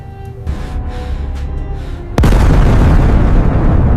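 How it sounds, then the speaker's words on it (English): A massive explosion erupts about two seconds in, a sudden loud blast that rolls into a sustained, dense roar after a low rumbling buildup, with no voices present. "The explosion still echoed in the distance."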